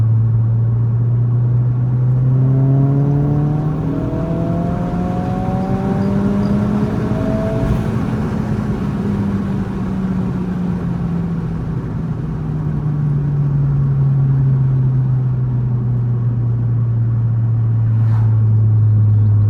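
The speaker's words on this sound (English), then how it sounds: "This will be a third gear rip real quick. And just get on it a little bit, bring it up in RPM." Honda Civic Si (11th generation) engine pulling hard in third gear, its loud tone climbing steadily in pitch as RPM rises, then easing back down, with steady road rumble throughout and no talking.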